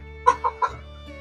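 Three short clucking calls from chickens in quick succession, fairly close and clear, with a faint fourth call trailing off.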